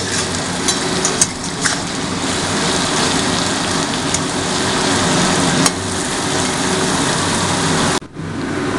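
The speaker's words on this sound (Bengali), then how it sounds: "এবার সম্পূর্ণ একসাথে সেইগুলো ফ্রাই করা হচ্ছে, ভালোভাবে নাড়িয়ে ফ্রাই করা হচ্ছে।" Mixed vegetables and fried egg pieces sizzle in a pan while being stirred for Bengali-style egg chowmein, a loud continuous hiss with occasional scraping clicks, no talk.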